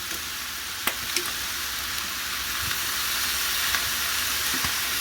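Fried rice with egg sizzles steadily in a pan just after sesame oil goes in, a loud, even hiss running throughout with a few soft stirring clicks scattered across it.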